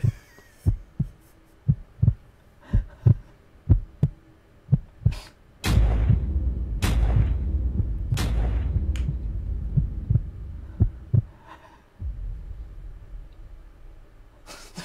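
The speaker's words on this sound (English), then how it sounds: "The heartbeat." A heartbeat sound in a music track opens with a steady run of deep, evenly spaced thumps, then gives way to a louder, fuller stretch of bass-heavy music with the beat still pulsing through.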